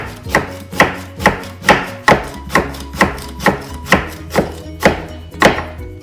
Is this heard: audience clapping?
no